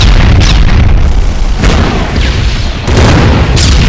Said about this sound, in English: I'm shooting the cannon as well now